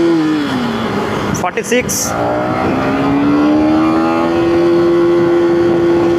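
A KTM Duke 250 motorcycle accelerating hard in first gear, the engine note rising steadily to a loud high whine, with a rider talking over it.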